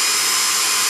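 A power drill whirs steadily and loudly up close as it cuts a 1/8 pilot hole in a can of hot chilli beans.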